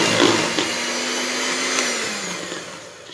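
A blender-like machine whirs loudly and steadily while mixing eggless mayonnaise ingredients, a close continuous motor drone that eases slightly toward the end.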